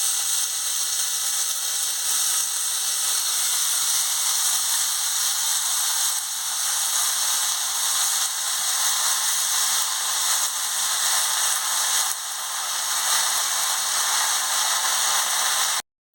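Snakehead fish sizzles in a hot wok, a steady loud crackling hiss of frying oil that holds evenly throughout, close and alone.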